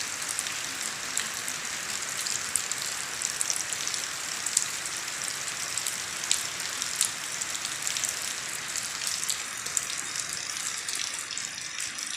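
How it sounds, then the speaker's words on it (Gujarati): A continuous hiss of rainwater splashing and running, dense and fairly soft, with faint scattered drips throughout and no talking. "જો મિત્રો વરસાદનું પાણી રેચનું"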